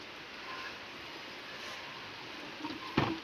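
Rain falls outdoors beside a small river, a soft, steady hiss of broadband noise throughout, with a couple of brief louder knocks near the end and no talk.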